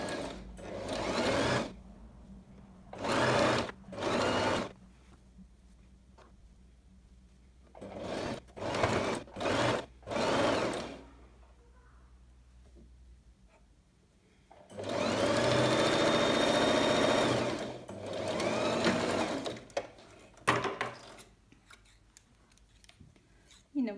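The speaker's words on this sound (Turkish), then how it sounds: "Bacak arasını da aynı şekilde dikiyorum." A sewing machine stitches a trouser crotch seam in short, separate bursts and then one longer run, close and moderately loud, with quiet handling between runs.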